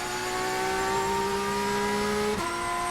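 A GT race car engine drones steadily at high revs through a corner, the pitch dipping briefly as the throttle is feathered before surging back under hard acceleration; loud and close, with no talk.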